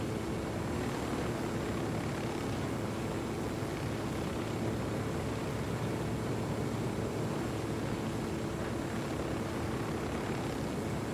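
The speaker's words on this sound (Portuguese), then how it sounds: "Eu tô usando um helicóptero em pleno Flor de Ouro" A helicopter flies in the video game Ghost Recon Wildlands, a continuous faint rotor and engine wash with broadband hiss, steady and unbroken throughout.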